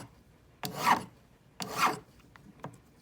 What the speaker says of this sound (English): you can look at the side of the ring to make sure you're not over filing